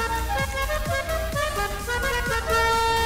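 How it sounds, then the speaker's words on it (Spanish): Musical car horn on a Seven 70 sports car in GTA V plays the La Cucaracha tune, a series of bright tonal notes in a quick melodic rhythm with no talk. "claxon musicales, vamos a ponerle"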